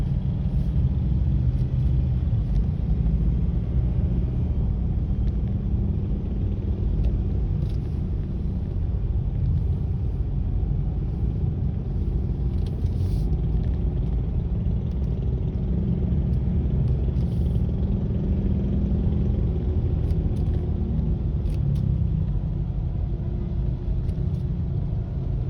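Steady low road traffic rumble on the climb up to Antipolo, a dense, unbroken drone of car engines and tires heard from within the slow-moving queue, with no talk.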